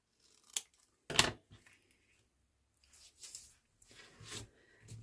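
Scissors snip the corner off a layered paper craft tag at close range, with a couple of sharp distinct cuts followed by softer rustling and handling of the paper.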